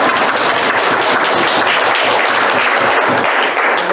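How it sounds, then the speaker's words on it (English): Dense audience applause at an event on activism, loud and continuous, with many hands clapping together in a steady crackling wash and no pause. "let's clap it up for that"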